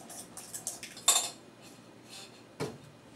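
Radishes stirred into a marinade in a bowl, a few close clinks and scrapes of a utensil against the dish in irregular bursts, with no talk.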